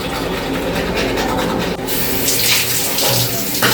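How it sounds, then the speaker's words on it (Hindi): Tap water runs steadily from a faucet while someone washes face and hands at a sink, a continuous close splashing wash with small shifts in flow throughout. "पहले मुँह हाथ धोता हूँ, मतलब दांत साफ करता हूँ"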